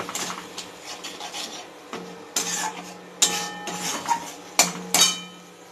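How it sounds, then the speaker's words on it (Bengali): Turmeric, cumin, chilli powder and salt being sautéed in a pan, with rasping scrapes of a spatula and sharp metallic knocks against the pan under a low frying hiss. "এবার সব মশলাগুলো আমি ভালো করে কষিয়ে নেব"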